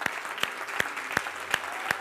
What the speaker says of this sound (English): if we're going to clap, let's clap for Jesus.